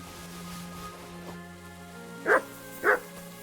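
Dog barking in the medieval role-playing game Kingdom Come: Deliverance 2: two loud, close barks about half a second apart, rising over a quiet ambient music bed with a faint earlier yip.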